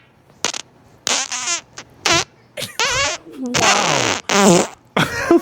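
A string of loud, sputtering farts, several separate bursts with brief gaps between them, some rapid and rattling, others drawn out and wet, close and prominent.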